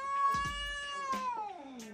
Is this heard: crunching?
no